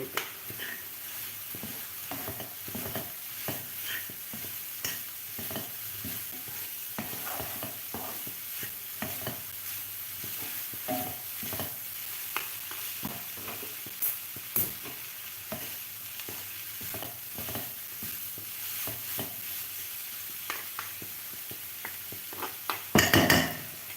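Drumstick thoran stirred in a pan, a continuous soft sizzle under repeated scraping and clinking of a utensil against the pan, close up, with a louder clatter at the very end.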